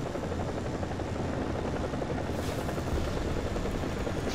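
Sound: MI-35 helicopter in War Thunder video game

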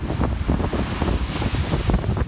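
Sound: waves crashing over a harbor breakwall

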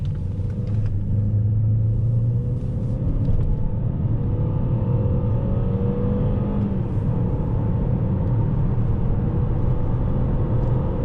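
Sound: Opel Insignia 1.6 turbo engine revving at high rpm

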